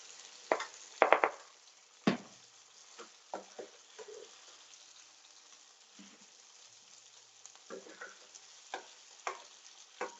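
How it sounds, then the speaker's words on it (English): Food sizzles in a skillet while Mississippi goulash cooks, a faint, soft frying hiss broken by scattered clinks and scraping stirs from a utensil against the pan. "You hear that sizzle?"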